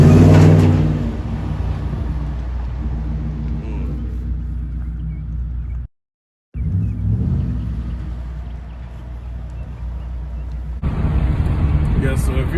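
Deep rumbling exhaust from a 2014 Ford F-150 FX2 with a 5.0 Coyote V8, muffler deleted and resonator still connected, idling loudly with a brief cut and swells in volume, as someone talks over it.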